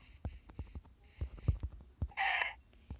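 Chicken clucking in the Minecraft video game, one short bright squawk among soft blocky clicks and steps, fairly close and distinct.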